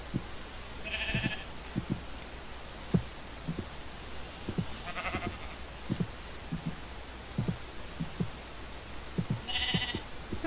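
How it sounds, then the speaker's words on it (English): Sheep in the video game Minecraft bleat in short, separate calls at a moderate distance, spaced across the stretch over soft background noise and clicky in-game footsteps. "Now we got two little sheep."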